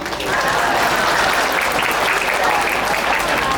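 An audience at a humorous Islamic sermon applauds, a steady, broad wash of many hands clapping at once, sustained and fairly loud with no gaps.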